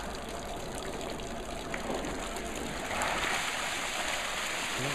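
Water gushes around the outside of a test tube in a steady, broadband rush that stays loud and continuous, swelling slightly midway through.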